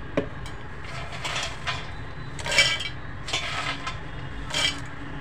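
Dry peanuts tumble into a mixer grinder jar, being readied for fasting-style peanut laddoos, in several close, rattling bursts with no speech.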